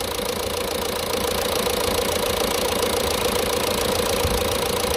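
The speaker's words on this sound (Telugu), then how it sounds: "సో ఇంజిన్ సౌండ్ అయితే ఈ విధంగా ఉందండి" A Jeep Compass engine idles steadily and close, a constant rumbling drone with a faint rhythmic knock, uninterrupted and no voices.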